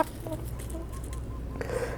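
Chickens cluck softly at a distance while foraging for food, with scattered short calls over a steady outdoor background.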